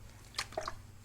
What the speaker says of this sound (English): Just a little bit of water